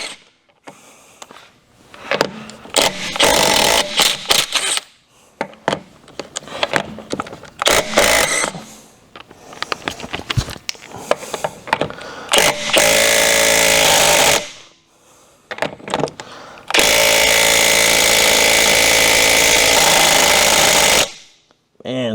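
Lug nuts come off the wheel of an S197 Mustang drag car under a power tool. Short bursts of rattling, hammering impact come first, then long sustained runs, all loud and close, with someone speaking in the gaps.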